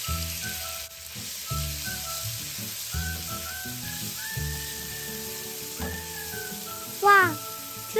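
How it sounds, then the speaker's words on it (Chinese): Curry paste fries in two tablespoons of oil over medium heat for a cassava curry, a constant crackling sizzle heard beneath background music, with a brief voice rising near the end. "原锅内倒入2大匙油，再将咖喱酱倒入，中火爆香。"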